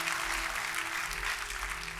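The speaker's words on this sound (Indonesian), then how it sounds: "Kita kasih tepuk tangannya yang meriah buat Tuhan kita." A church congregation bursts into lively applause during a worship service, a thick, continuous clatter of many hands over a low steady hum.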